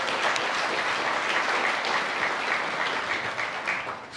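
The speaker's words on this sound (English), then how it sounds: "please, one more time, a round of applause for Mel." Steady, dense applause from an audience at an end-of-year event, a continuous wash of many hands clapping throughout at moderate loudness.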